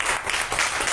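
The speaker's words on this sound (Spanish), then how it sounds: "Den un fuerte aplauso al Señor." A church congregation gives a strong round of applause to the Lord during a service, a dense, steady wash of clapping filling the whole short moment at close range.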